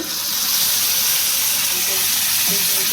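Spice paste hitting a hot pan and sizzling, a steady bright hiss of frying that holds evenly throughout at close range, with faint kitchen clatter underneath.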